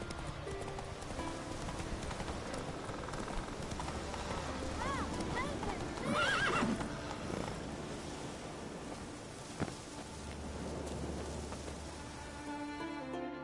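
The horse Roach in the Witcher 3 video game lets out a neigh amid steady hoof clip-clops over a continuous outdoor background, with a voice speaking briefly.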